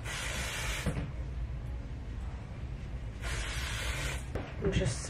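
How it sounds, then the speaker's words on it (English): Hair spray misted onto the roots of sectioned hair at home, two distinct bursts of airy hiss, one early and a longer one later, close by over a low background hum. "And just spray it like within the root area"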